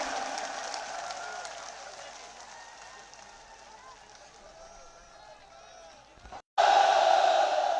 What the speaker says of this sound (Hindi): अब जोरदार तालियां बजाकर स्वागत करें आदरणीय उम्मीदवार रामजी बेनीवाल साहब का